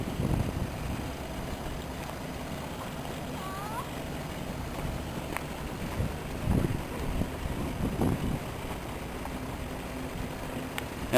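Wind gusting steadily along the Dead Sea shore, a broad low rushing that swells in stronger bursts around the middle and later on, with a few faint thin sounds in the background.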